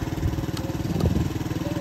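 A motorcycle engine runs with a steady low throb, close and fairly loud, holding an even idle-like rhythm throughout with no voices.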